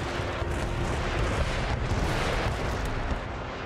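Continuous heavy cannon barrage in the strategy game Empire: Total War, dense rumbling booms blending into a loud, sustained roar with no clear gaps.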